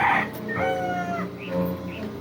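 Hens in a breeding pen cluck and call in a few drawn-out, close vocalizations, with faint background noise.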